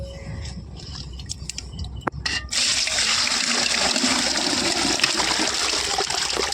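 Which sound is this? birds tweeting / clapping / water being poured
water being poured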